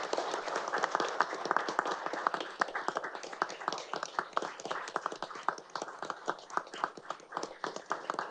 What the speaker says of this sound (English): just offer a round of applause for John and his family